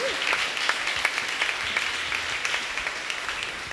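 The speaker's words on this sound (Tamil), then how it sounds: "அவருக்கு ஒரு அட்டகாசமாக கைத்தட்டை தட்டி." Applause from a congregation during a Novena mass for Our Lady of Good Health, with steady, dense clapping filling the whole stretch and a few sharper individual claps standing out near the front. No one speaks over it.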